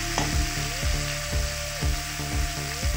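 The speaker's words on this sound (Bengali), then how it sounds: "সামান্য একটু হলুদের গুঁড়ো দিয়ে ভেজে নেবো উচ্ছেগুলো, খুব সুন্দর করে লাল লাল করে ভেজে নেবো।" Sliced bitter gourd frying in hot oil with a little turmeric powder, a steady close sizzle broken by repeated scraping stirs of a spatula against the pan.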